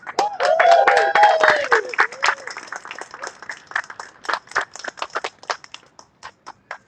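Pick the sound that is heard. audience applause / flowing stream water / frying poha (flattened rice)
audience applause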